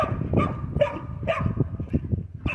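A dog barks repeatedly at close range, a quick uneven string of sharp barks and yips with a few whimpering notes mixed in, loud and alone without talk.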